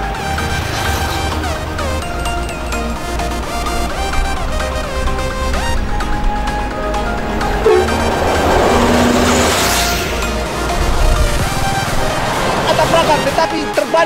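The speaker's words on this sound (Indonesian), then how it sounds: "sebentar kita lihat bus besar sedang melintas" A large bus passes along a road on a dangerous bend in Batam, a dense engine rumble with a loud whooshing pass building near 8 to 10 seconds and a second surge near 12, with faint voices at times.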